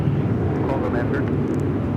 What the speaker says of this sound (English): That was United Airlines flight 1221 coming in from Honolulu